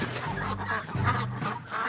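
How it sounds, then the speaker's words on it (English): Ducks quacking loudly in an animated story setting, several close, overlapping honking calls over a steady background. "the ducks quacked louder"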